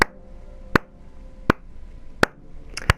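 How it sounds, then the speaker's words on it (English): Four slow, evenly spaced hand claps ring out alone in a quiet room, each a sharp separate crack with a pause of about three-quarters of a second between them, the last one slightly doubled. "Slow clapping."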